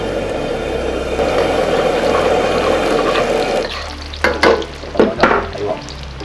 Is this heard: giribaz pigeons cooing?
no